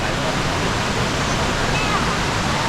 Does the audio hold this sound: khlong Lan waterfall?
yes